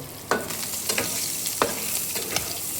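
Fried onions and green chillies are stirred in a sizzling pan, with about four rhythmic scraping strokes of a spoon over a steady frying hiss.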